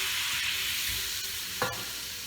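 Whole spices spluttering and sizzling in hot oil in a pan while cooking pachforon katla, a steady dense crackle with a stirring scrape near the end, close and alone.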